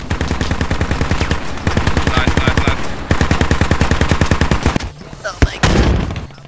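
Rapid, loud bursts of 30 mm autocannon fire from a BTR armored vehicle in the game Squad, several long rhythmic strings of close shots with brief pauses, ending in scattered blasts.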